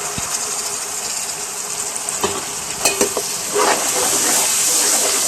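Biryani masala with yogurt frying in a pan for chicken dum biryani, a steady close sizzle with a few stirring scrapes and clinks, the sizzle swelling louder toward the end.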